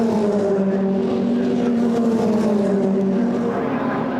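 BRDC Formula 4 single-seater race cars racing nose to tail at Snetterton circuit, engines screaming loud and high with rising and falling pitch throughout.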